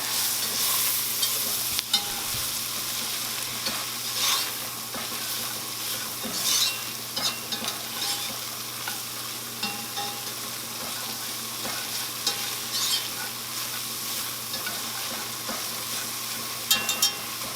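Einkorn flour whisked into a hot soup base for cheddar broccoli soup gives a constant hiss with quick, repeated whisk taps and clicks against the pot, close by and with no talking.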